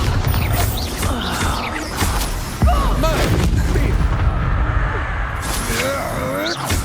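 Spell explosions from Confringo and Bombarda in Hogwarts Legacy on PS5, heavy booming blasts and crackling impacts over a dense battle din, with a sharp hit near the middle and characters' voices shouting in between.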